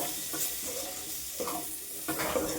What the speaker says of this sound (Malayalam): ഈ തക്കാളിയും കൂടെ ഒന്ന് നന്നായിട്ട് വഴറ്റിയെടുക്കുക